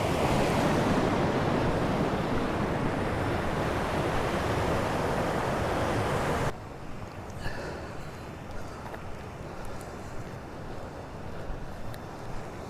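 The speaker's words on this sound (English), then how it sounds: "Have a look at this kind of water rushing over the rocks again from here" Surf rushing over rocks on the Connemara coast in Ireland, a dense roaring wash of water for several seconds that then drops abruptly to a softer, distant hiss with faint gusts.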